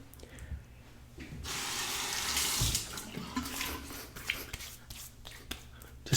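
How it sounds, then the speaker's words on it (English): Tap water runs steadily to rinse a Henson safety razor between shaving passes, a bright rushing splash building over a few seconds and then trickling on with small clinks at a bathroom sink. "Just a quick rinse."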